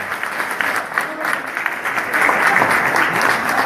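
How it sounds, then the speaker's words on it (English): A college debate audience on immigration policy breaks into applause, a dense, moderately loud clatter of many hands that swells slightly midway and carries to the end. "Could you please give a round of applause?"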